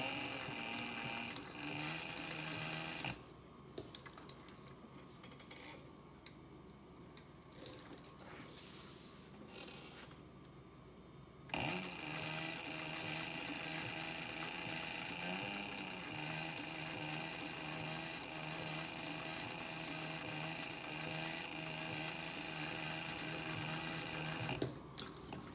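A sewing machine stitching a planner cover runs in bursts: a fast mechanical whir, a quieter pause in the middle, then a long steady run with a faint creak of the mechanism.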